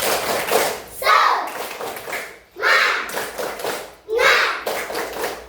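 Children in an Indonesian primary classroom perform a spirit clap as an ice-breaker, with three loud bursts of voices and claps rising at regular intervals over steady chatter and tapping.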